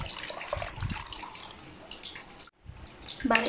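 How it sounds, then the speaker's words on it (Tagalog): Water poured into a cooking pot holding crushed ginger and lemongrass for a lukan shell dish, a steady splashing pour that pauses briefly near the end before resuming. "Lagyan na natin ng tubig."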